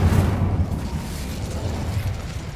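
Incendio fire spell cast in Hogwarts Legacy, a rumbling whooshing burst that hits hard at the start and then rolls on as a low crackling roar, fading slightly over a couple of seconds.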